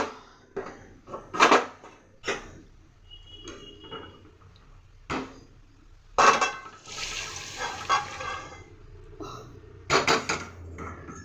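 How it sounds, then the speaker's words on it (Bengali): Hot water poured from a vessel into a pan of fried spices for a fish curry with eggplant and potato, giving splashy bursts of pouring and a sustained hissing rush, with clinks of utensils between. "সব গরম জলটা ঢেলে দিলাম।"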